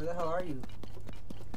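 Horse hooves clip-clop closer in The Legend of Zelda: Tears of the Kingdom, a run of soft evenly spaced thuds under game music, following a brief spoken line from a man.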